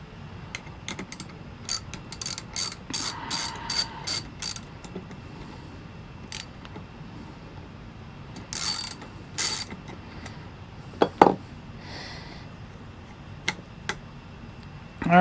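A ratchet tightens bolts while a hunting stick is assembled, giving bursts of rapid clicking at close range with pauses between, plus a few sharper metallic clicks near the end.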